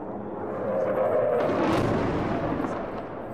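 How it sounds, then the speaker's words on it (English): Airstrike explosions in the rebel-held part of Aleppo: a heavy, broad rumbling boom that swells and holds for a few seconds, loud and diffuse like distant blasts rolling across the city. "While this was being filmed, there were several airstrikes."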